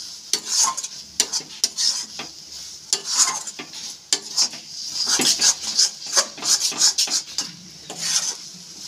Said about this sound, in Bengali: এরকম নাড়াচাড়া করে একদম শুকনো করে নিতে হবে, ঠিক যেরকম কড়াইয়ের গা থেকে যখন উঠে আসবে সেই অবস্থায়।